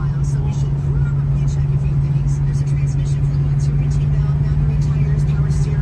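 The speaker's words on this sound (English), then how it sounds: "We're out driving our 72 Monte Carlo." A 1972 Chevrolet Monte Carlo engine hums steadily from inside the cabin, a constant low drone with road noise, while a person talks over it throughout.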